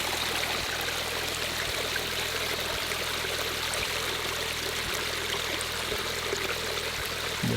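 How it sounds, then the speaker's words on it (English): Water from an above-ground mountain spring in the wildfire-burned Cameron Peak area near Estes Park trickles and gurgles in a steady, close, continuous stream, with a faint regular low ticking underneath. "they're blessed to have a above ground spring for a main source of water"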